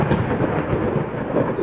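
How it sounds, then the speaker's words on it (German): A low, rumbling roll of thunder in the Layers of Fear video game fills the brief moment, steady and heavy with a faint rain-like hiss. "Ist gewittert."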